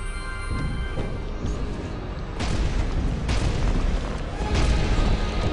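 Bombs blow up in the action platformer Dust: An Elysian Tail, a run of loud booming blasts over a dense, rumbling game soundscape, three sharper hits standing out.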